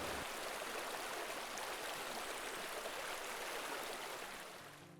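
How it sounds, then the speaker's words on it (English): Steady, dense rush of water flowing from a diversion dam down an irrigation ditch, continuous and even, fading slightly at the end with no voices. "that's this structure over here that back up the water and allows that water to flow down into the ditch"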